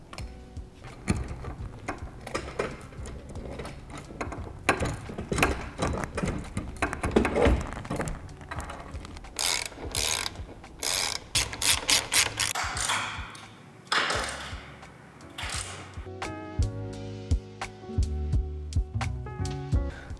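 Bolts on a 270 awning bracket are tightened by hand at a hard-shell mounting, giving irregular metallic clicks, taps and thuds that come close and fairly loud with no talking.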